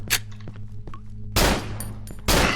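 Gunfire from the horror game Cry of Fear, custom campaign, comes as two loud, close bursts of rapid shots, preceded by quieter clicks and game noises over a steady low hum.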